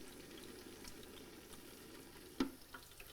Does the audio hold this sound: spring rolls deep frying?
yes